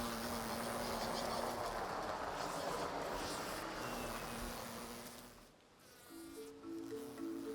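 Bees buzz along the Rio Doce, a dense steady drone close by that dips briefly before another pitched hum comes in near the end.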